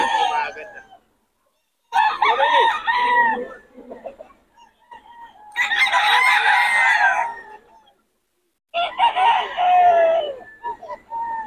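Chickens and roosters for sale at a market cluck and crow loudly in three long bursts, separated by short silent gaps.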